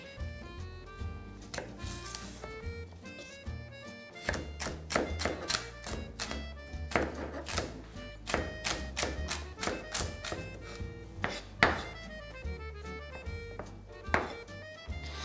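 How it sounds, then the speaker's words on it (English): A knife chopping an onion on a cutting board for classic lasagne, a long run of close, fairly quiet rhythmic thunks and taps, steady in pace with brief pauses, over light background music. "I got the onion that I'm going to chop"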